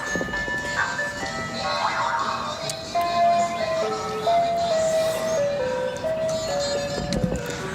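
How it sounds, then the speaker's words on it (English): An ice cream truck passes by outdoors, its tinkling melody playing steadily and fairly loud over traffic rumble for the whole stretch, with the tune's notes stepping up and down. "Let's let this ice cream truck go by too."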